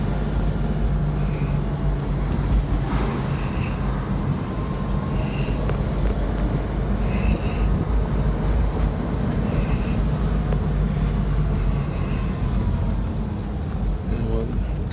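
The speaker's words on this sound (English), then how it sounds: "I'll open it up a little bit so you can really hear the motor," An old car with a cold engine runs on a main street in Southern California, its steady motor drone and road rumble continuous under wind noise, while someone talks over it.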